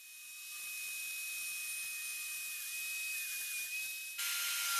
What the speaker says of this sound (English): ripping down with my track saw the 3/4 inch Baltic birch plywood that I'm going to be using for the backer and the sides